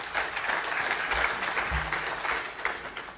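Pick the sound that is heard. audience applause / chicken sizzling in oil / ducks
audience applause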